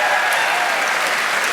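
A live audience at a holiday comedy quiz show breaks into dense, steady applause, a thick close wash of clapping hands with no break.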